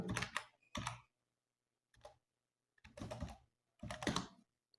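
Bursts of close computer keyboard typing arrive in short clusters separated by silent pauses, crisp clicking keystrokes with no talk.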